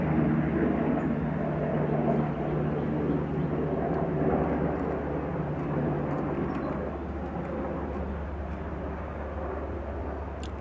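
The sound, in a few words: helicopter flying by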